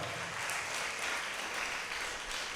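A congregation at a novena Mass in a church in Tiruchirappalli claps, a soft, steady wash of many hands heard at a distance and fairly faint.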